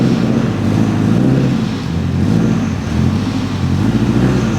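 Honda Civic Type R FK8, converted to all-wheel drive and suffering a throttle fault, idling steadily while warming up, a continuous low engine drone with a faint wind rush and no talk.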